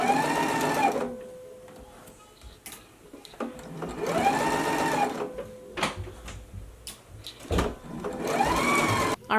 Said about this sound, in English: So let's go ahead and do our stitching for our underarm seams now.